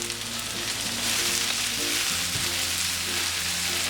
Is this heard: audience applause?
no